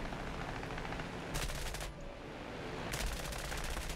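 In an aircraft combat video game, a rear gunner's machine gun fires two short rattling bursts, distant and faint over a constant engine drone.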